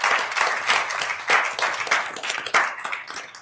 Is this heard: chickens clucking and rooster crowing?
no